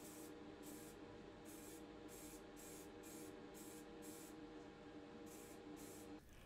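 A spray can of Motip high gloss white paint hisses in a rapid series of short, even bursts over a diecast Volkswagen T2 casting, close and steady, with no talk.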